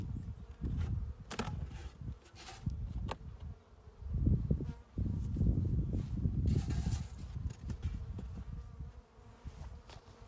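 Honey bees buzzing loudly and close around many beehive colonies in January, a dense shifting drone with individual bees zipping past, no voices.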